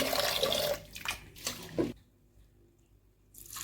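Split moong and toor dal get rinsed in a bowl of water, with swishing and splashing in short bursts, then a quiet pause before more water sounds return, close and fairly soft.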